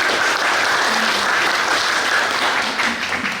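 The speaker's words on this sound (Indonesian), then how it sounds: "Berikan aplaus sedikit buat Bang Hendra Makmur." An audience applauds Bang Hendra Makmur at an event, dense loud clapping filling the whole stretch evenly without a break.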